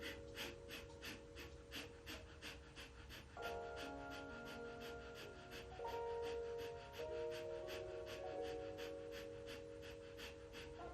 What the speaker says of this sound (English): Deep breath in, exhale, deep breath in, half out, and in and out.